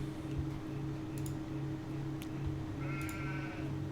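Sheep in Farming Simulator 19 bleat several times over a steady low hum of game ambience, the calls fairly clear and spread across a few seconds with no talking.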